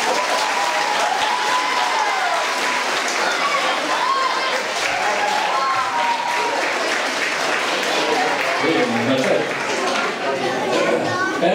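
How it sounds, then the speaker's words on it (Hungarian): Audience at a 2022 regional children's theatre festival applauds, a loud sustained wash of clapping over several seconds with cheers and children's voices mixed into the crowd noise. "tapsoljuk meg!"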